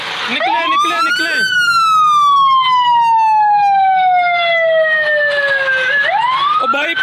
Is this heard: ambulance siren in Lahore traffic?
yes